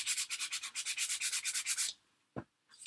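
Sandpaper scrubbing an altered playing card in quick regular back-and-forth strokes, about a dozen rhythmic close rasping swipes, then a pause with a single brief scrape and a faint final rub.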